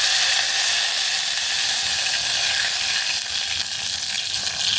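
Sugar water hits a hot mustard-seed tempering while khaman is being made, and it sizzles and hisses. The frying sound is steady and bright, close, and continuous throughout with no speech.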